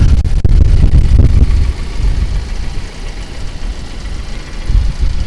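A Mahindra Roxor diesel engine runs close by with a deep, rumbling idle that is loudest at the start, settles lower, then swells again briefly near the end.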